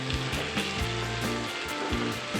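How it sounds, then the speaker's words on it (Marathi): Cluster beans (gawar) stir-fried with spices in a pan, a dense continuous sizzle with rhythmic scraping and clanking from stirring, close and fairly loud. "ही गवार आपण याच्यामध्ये टाकून घेऊया. छान परतून घेऊया भाजी,"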